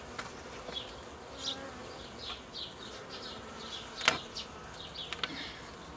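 Honeybees from a queenless colony being shaken into a nucleus box, a close swarm of buzzing with individual bees whizzing past in short rising and falling passes.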